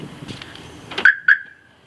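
A car alarm close by gives two short, sharp electronic chirps about a quarter second apart, loud against a quiet background, with no talking.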